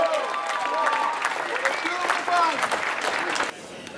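Steady applause from a crowd at the Tour de Romandie cycling race podium ceremony, dense clapping throughout that drops in level near the end.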